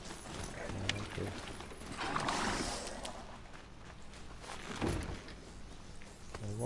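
A game horse in Horizon Zero Dawn moves at a rhythmic gallop of hoof clip-clops with some mechanical clanks and a brief whinny, fairly faint, mixed with game effects and a voice.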